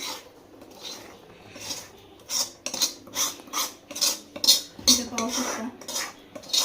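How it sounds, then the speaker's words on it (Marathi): A metal spoon scrapes and clacks rhythmically against a pot as ground masala paste is worked into a village-style goat mutton curry, repeated strokes fairly close and clear with no talking. "आता हे आपण भाजीमध्ये वाटण टाकून घेऊया"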